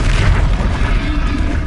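Confringo fire spell blasts in a Harry Potter video game, a loud continuous rumbling boom with dense low-end crackle across the whole moment, no pause or quiet gap.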